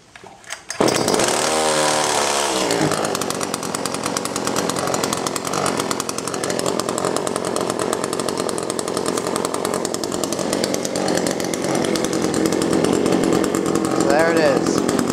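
An Echo CS-400 chainsaw cold-starts with a brief pull, then catches and runs at a steady, loud, buzzing idle close by for the rest of the stretch.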